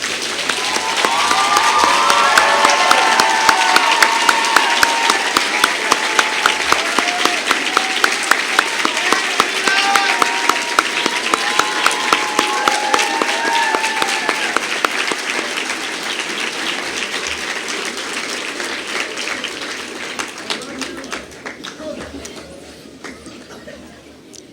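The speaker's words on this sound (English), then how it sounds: "please join me in giving them a warm round of applause" At an awards ceremony, an audience gives sustained applause, loud and dense at first with a few cheers and voices mixed in, then thinning gradually over twenty-odd seconds to scattered claps.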